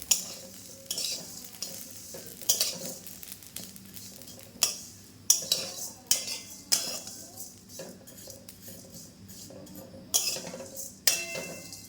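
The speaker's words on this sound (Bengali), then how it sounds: "এটাকে এবার লাল লাল করে ভেজে নিতে হবে" Vermicelli fries in ghee in a wok while a metal spoon scrapes and clatters against the pan in repeated strokes over a soft, continuous sizzle, close and without talk.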